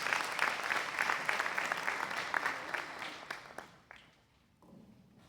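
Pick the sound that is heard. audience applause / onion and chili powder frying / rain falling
audience applause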